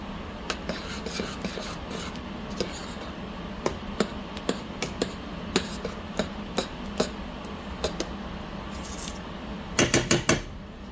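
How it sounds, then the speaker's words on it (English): A spoon stirs the foam into sugar-free strawberry jam sweetened with Splenda, knocking against the pot in a steady series of close metallic taps that end in a quick cluster of clinks. "I'm just gonna mix the foam in"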